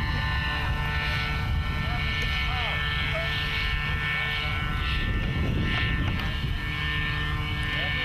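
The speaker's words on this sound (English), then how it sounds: "There goes the third takeoff." A small aircraft taking off, giving a steady, droning engine whine that holds for the whole stretch under wind and background noise.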